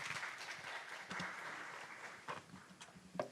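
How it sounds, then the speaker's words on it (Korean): Audience applause at a Cheongju Craft Biennale lecture hall, welcoming the guest artist, a quiet, dense patter of clapping that swells briefly around the one-second mark and thins out with a few scattered claps. "박수로 맞이해 주십시오."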